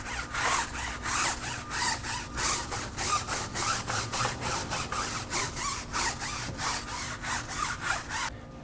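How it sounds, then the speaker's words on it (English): A stiff blue brush scrubs a Honda Civic tire in fast, even back-and-forth strokes, a loud rhythmic rasping close up with no talking. "using our stiff blue brush, this is going to scrub and get anything that's stuck in the pores of the surface."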